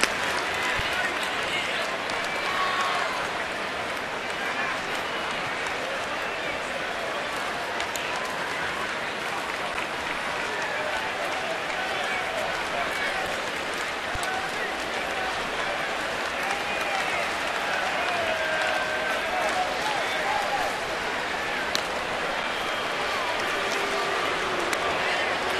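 Sustained applause and cheering from a big baseball stadium crowd late in a tight game, a dense, steady roar of clapping that runs unbroken throughout.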